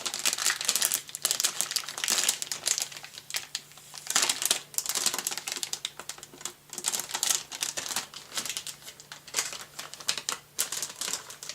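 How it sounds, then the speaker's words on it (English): Crinkly tape being peeled and picked off a new Creative Audigy Rx sound card, heard close up as a steady run of dry crackles, snaps and rustles with short pauses. "Gotta get rid of this pesky tape on it."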